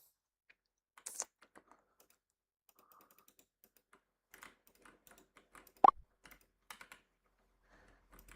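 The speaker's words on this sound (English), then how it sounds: "Are your keyboard switches keeping you from typing faster?" Sparse keystrokes on a mechanical computer keyboard with switches, quiet and close, coming in irregular taps and small bursts with one sharper clack near the middle.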